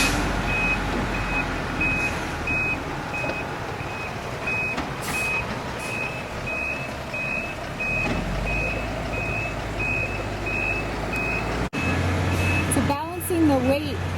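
Heavy concrete trucks load onto a transporter, with a steady loud diesel engine rumble and regular reversing beeps running throughout, under a voice speaking.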